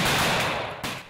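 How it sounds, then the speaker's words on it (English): Loud gunfire bursts from the bushes of thick forest on Mount Kenya during anti-poaching training of Kenyan rangers, a dense crack followed by a second sharp shot, close and harsh. "heavy gunfire from the bushes"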